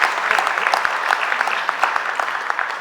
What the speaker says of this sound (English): A round of applause again for our founder, Pam Ramey Lawler.